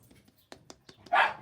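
An excited dog barks once before going out for a walk, after a few soft taps and clicks; the bark is fairly near and stands alone.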